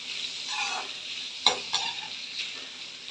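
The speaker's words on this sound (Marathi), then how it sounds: "कांदा थोडासा आपल्याला परतून घ्यायचा आहे." Chopped onion sizzles gently in a hot pan for raw mango rice, with a spoon stirring through it, giving a couple of sharp clinks against the pan over a steady soft frying hiss.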